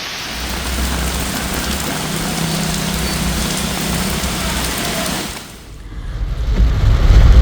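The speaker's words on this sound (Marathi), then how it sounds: "पुण्यात सकाळपासून पाऊस पडतोय" Heavy monsoon rain pours steadily in Pune, a dense loud hiss on surfaces with low rumbling underneath, then thins for a moment before a deep roar of rain and rumble builds again.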